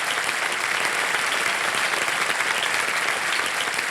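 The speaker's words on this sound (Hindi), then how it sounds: "ताली बजाते हैं आपके लिए" Studio audience on a television quiz show breaks into applause, a dense, even wash of many hands clapping at full strength throughout, with no voices above it.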